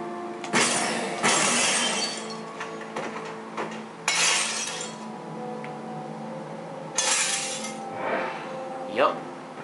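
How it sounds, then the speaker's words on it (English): Glass shatters in the Riddick: Assault on Dark Athena video game after a gunshot, with several loud bursts of breaking glass spread through the stretch and someone speaking between them. "Am I supposed to use his gun to break the glass?"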